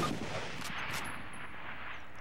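Springfield rifle fire in the video game Call of Duty arrives as a dense, continuous wash of gunfire and battle noise, loud throughout the moment with no clear separate shots.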